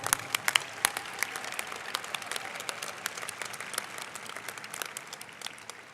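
Audience applause at a closing ceremony, moderately sized crowd clapping with sharp individual claps popping out of a continuous patter, steady throughout.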